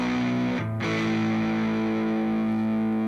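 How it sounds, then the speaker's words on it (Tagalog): A heavily distorted electric guitar plays through a Soldano amp model on a Valeton GP5 processor, holding a sustained chord that shifts once to another briefly before ringing on, loud and close with no talk. "So ito yung tunog ng Soldano."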